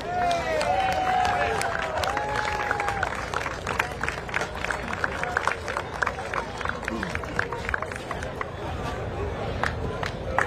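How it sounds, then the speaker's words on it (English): Crowd at the 2023 C.V. Whitney Cup polo final applauding the winning team, a dense patter of clapping and cheering from a large outdoor audience, with an announcer's voice over it at the start. "Big round of applause."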